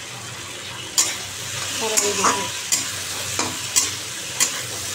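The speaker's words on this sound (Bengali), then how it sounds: "এটা ভাজা হয়ে গেলে এইটা বসাবো।" Food fries in a pan with a constant sizzle while a utensil scrapes and stirs it in sharp, regular strokes about once a second. The sound is close and moderately loud, with a brief murmur of speech.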